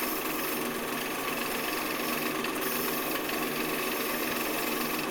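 A skew chisel cuts into spinning wood on a lathe, a continuous dense scraping roar mixed with the machine's steady hum, fairly loud and unbroken for several seconds with no talking.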